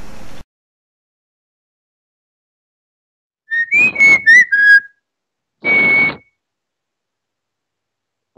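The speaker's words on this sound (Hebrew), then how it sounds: "איזה שריקות חזקות יש לי" Loud human whistling: a quick run of several short, rising and falling whistled notes, then a pause and one longer, steady whistled tone, each standing alone in silence.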